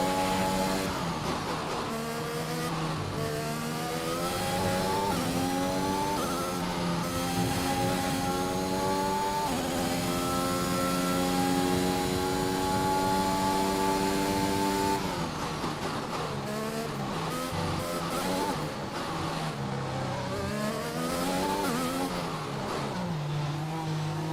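A Formula 1 car engine in the racing game F1 2021 on the final lap, screaming high and loud and climbing through gears in repeated upshift sweeps, with a brief drop before revving hard again, alone without talk.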